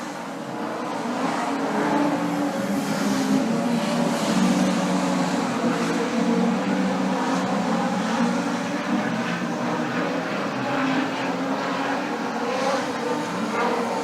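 Production sedan race cars restart on green, a sustained blend of engine roar rising and holding across the field, heard from trackside at moderate distance with steady intensity.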